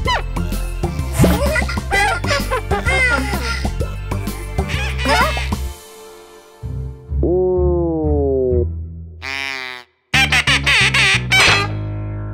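Cartoon duck quacking in a children's animated show, a run of stretched, squawking calls in the second half after a busy passage of music and voices, loud and close.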